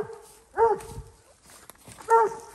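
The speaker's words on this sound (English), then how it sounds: "Mac, he ain't treeing as hard as he normally does" A coonhound barks at a raccoon up a tree during a nighttime hunt, two loud drawn-out bawling barks about a second and a half apart, close by.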